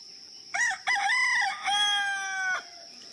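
A rooster crows loudly and close by on a coffee farm, one full drawn-out cock-a-doodle-doo, with a faint high hum behind it.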